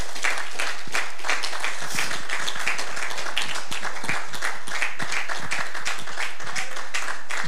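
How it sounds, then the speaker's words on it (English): A church congregation at a spring revival service claps hands together in a steady, dense burst of applause with faint voices underneath. "Give the Lord a hand clap."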